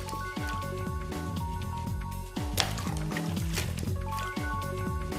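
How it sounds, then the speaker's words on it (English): Parts of a Mirage FX CPAP mask, cushion and frame, washed by hand in warm water with mild soap: soft sloshing, squishing and dripping with light clinks, steady and close. "Clean each component by gently washing in warm water using a mild soap."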